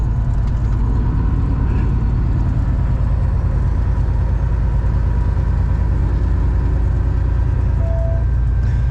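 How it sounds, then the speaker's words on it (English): A small four-wheeler ATV runs along a road in Moab, Utah, its low engine drone steady and fairly loud throughout with no talking. "See, here's one of these little four-wheelers right here on the road here."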